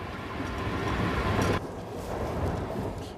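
The Orient Express train runs along the tracks with a dense, continuous rumble and rattling as the carriage rocks, heard from inside at moderate level with a brief shift in tone midway.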